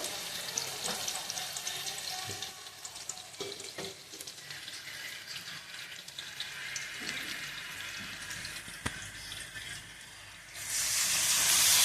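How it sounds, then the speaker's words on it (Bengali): Sliced onions frying in a pan before mutton is added, a soft, continuous sizzle and crackle with occasional clicks and stirs, swelling to a louder hiss near the end. "পেঁয়াজটা আমাদের ফ্রাই হয়ে আসছে, মটনটা ছেড়ে দেব"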